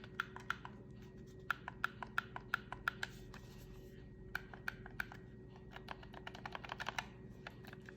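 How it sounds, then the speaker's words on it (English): Button clicks on a Google Stadia controller: a quick run of sharp, hollow plastic taps, close and fairly faint, over a steady low hum, with bursts and short pauses between them. "you can sort of hear it's sort of a hollow plasticky sound"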